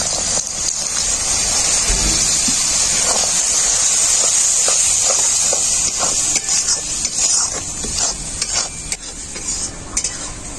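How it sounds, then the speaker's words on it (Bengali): A spice paste of turmeric, cumin and dried chilli powder for a chicken dish fries loudly in a pan as a splash of water hits it, giving a steady, hissing sizzle with scattered clinks of stirring, and no one speaks. "মশলাটাকে ভালো করে কষানোর জন্য অল্প একটু জল দিয়ে দেবো এর মধ্যে"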